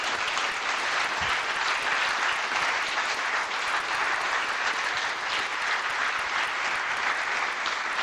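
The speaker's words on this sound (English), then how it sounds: "please give them a warm round of applause" A live audience at a Harlequins rugby State of Play event breaks into sustained applause, dense and even clapping filling the room for several seconds without a break.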